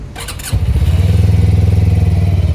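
An RKS A250 motorcycle's engine starts with a brief whirring crank, then catches and settles into a loud, close, steady pulsing idle.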